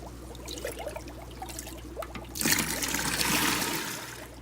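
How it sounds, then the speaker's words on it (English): Breeding tank water from a bristlenose pleco fry tank pours into a bucket, a steady close splashing gush that swells after a quieter trickling start. "fill this bucket about half full of the breeding tank water"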